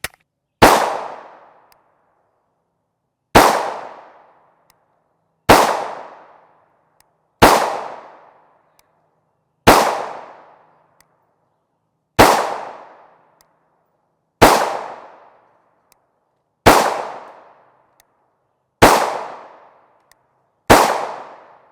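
Ten sharp, loud pistol shots from an FN 5.7 Mark II with a 5.2-inch barrel firing 5.7x28mm Hornady 40gr FTX Critical Defense ammunition, evenly spaced about two seconds apart, each ringing out briefly into silence.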